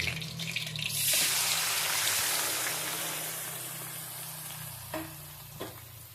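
Small nethili (anchovy) fish frying in coconut oil in a pan for a Kerala-style aviyal, a steady broadband sizzle running throughout with a couple of brief clinks or stirs near the end, no voices.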